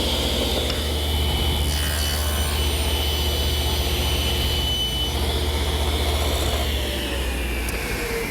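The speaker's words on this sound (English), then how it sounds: "2 passes through the saw will take care of that" Table saw cutting a center groove along a poplar board: a continuous high whining blade tone over a steady motor hum, loud and close throughout.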